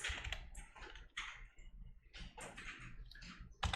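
Keys clatter on a computer keyboard, close and quiet, in a burst of uneven typing and clicks that includes a Tab key press.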